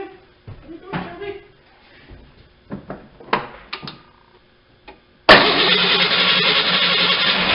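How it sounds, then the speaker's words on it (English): A vehicle that has sat unused for a long time cranks and fires up abruptly after quiet clicks and a person speaking, then runs at a steady, loud idle. "Now, as you can see, vehicle fired up."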